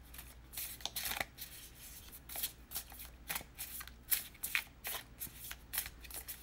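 Tarot cards are shuffled by hand in a quick series of crisp, riffling bursts, close and fairly quiet, repeating irregularly with no talk.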